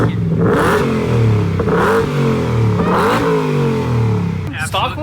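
A Hellcat-swapped Ford Raptor with an aftermarket exhaust revs loudly and close in several rising and falling blips, its deep roar and burble filling the clip.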